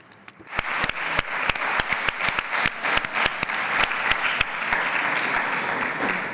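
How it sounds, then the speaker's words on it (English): Applause for the committees at a parliamentary plenary session of a Mediterranean assembly, beginning with scattered sharp individual claps that quickly swell into steady, moderately loud clapping from the hall. "A round of applause for all of the committees for the work done."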